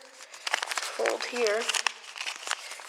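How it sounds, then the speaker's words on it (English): Square paper is folded and creased for an origami cootie catcher, with close crinkling and rustling bursts while someone speaks over it. "And now what you are going to do is fold here,"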